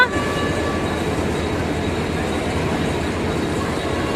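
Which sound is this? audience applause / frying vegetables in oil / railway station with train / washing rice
railway station with train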